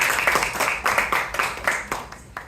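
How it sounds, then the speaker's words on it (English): Audience clapping at a small library and information services gathering, a short burst of scattered hand claps from a modest crowd that thins out toward the end. "so give them a big round of applause."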